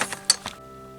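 A blown glass Christmas ornament clinks as it is handled, a few light, bright taps in quick succession, close and clear, then fading to quiet.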